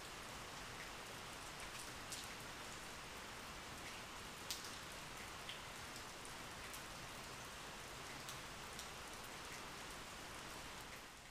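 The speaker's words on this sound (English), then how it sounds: "I don't know if you can hear it, but the rain in the background," Rain falls steadily outside during a paint job on a 2015 Porsche 911 Turbo (991): a soft, even hiss with a few faint drop ticks, quiet and distant throughout, with no voices.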